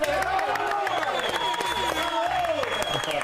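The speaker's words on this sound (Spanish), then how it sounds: "De verdad que un aplauso para Raúl, que yo lo veo." A television studio audience applauds steadily throughout while music plays and voices carry over the clapping.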